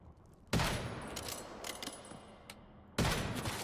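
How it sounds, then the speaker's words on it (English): Gunfire in the video game Once Human: two sharp, loud bursts of shots, each followed by a decaying noisy tail, separated by quieter clatter and a few faint pops. "my gunfire as I murdered your coworkers?"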